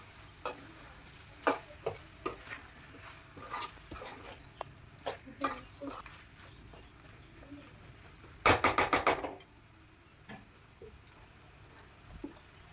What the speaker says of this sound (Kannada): ಈಗ ಇದನ್ನು ಮತ್ತೆ ತೆಂಗಿನ ತುರಿ ಹಾಕಿದ ಮೇಲೆ ಚೆನ್ನಾಗಿ ಒಂದು ಸರಿ ಮಿಕ್ಸ್ ಮಾಡ್ಕೊಳ್ತಾ ಇದ್ದೀನಿ